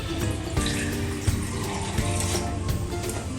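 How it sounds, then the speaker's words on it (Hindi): Water from a bowl poured into a blended masala for butter chicken in a home kitchen, a steady splashing, trickling pour with light clinks of the bowl, close and fairly loud with no talk. "तो एक कटोरी हम पानी डालेंगे"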